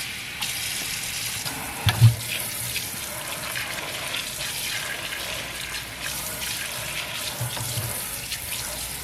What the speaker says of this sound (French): je vais juste rincer la semelle pour pas que ça trempe dans la saleté